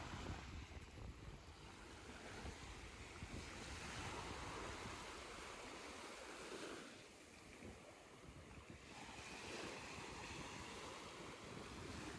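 Ocean waves rolling onto a beach, a steady broadband wash of surf with swells rising and easing, mixed with wind buffeting the microphone; no voices.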